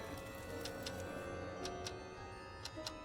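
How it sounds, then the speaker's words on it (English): A clock ticks steadily in Ghostbusters: The Video Game, with evenly spaced, crisp ticks over a constant low ambient hum and no voices. "I hear a clock."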